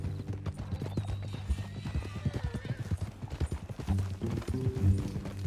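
Horse hooves clip-clop steadily in Red Dead Redemption 2, a brisk rhythmic run of close hoofbeats with a brief whinny, under game music and a voice.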